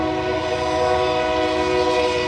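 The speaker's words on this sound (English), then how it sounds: "There's a train coming through." A very loud train passes close by, its horn blaring as a sustained, steady tone over a low rumble of rolling cars.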